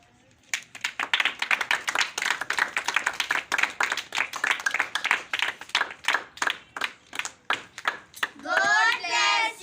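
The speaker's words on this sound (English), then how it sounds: "Clap for them." A small group claps for children after a classroom name-writing test. The claps come as quick, fairly even rounds for about eight seconds, close and moderately loud, then children's voices briefly take over at the end.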